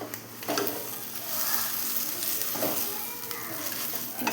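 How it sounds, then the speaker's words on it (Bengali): Roti flatbread frying in a pan at home, a steady soft sizzle with occasional stirring scrapes, close and continuous, with no talking. "এই যে একটু রুটিটা ভেজে খাচ্ছি আমি রাতের বেলায় ডিনার"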